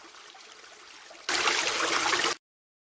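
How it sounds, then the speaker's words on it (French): Rushing water of a waterfall, a soft steady wash that suddenly swells much louder and closer, then cuts off abruptly into silence. "Il y a une cascade là-bas."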